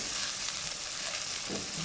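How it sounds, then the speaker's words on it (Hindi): Chopped onions sautéing in a pan for red sauce pasta give off a steady, close hiss of sizzling oil, with a few soft stirring scrapes near the end and no voices. "देखिए मज़ेदार किस्म का प्याज सोते हो रहा है।"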